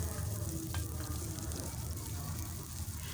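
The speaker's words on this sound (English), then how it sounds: "So into a pan, I'm going to add around 3 tablespoons of cooking oil, and into this I'm also going to add 1 onion" A chopped onion fries in about three tablespoons of cooking oil in a pan, giving a dense, even sizzle that hisses continuously with no pauses.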